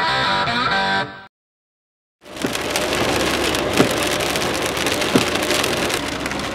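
Steady rain pours onto a surface outdoors, a dense continuous patter with a few louder drips, after a brief cut to silence near the start.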